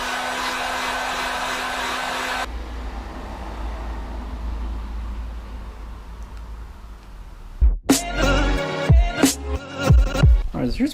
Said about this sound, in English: I'm gonna grab the heat gun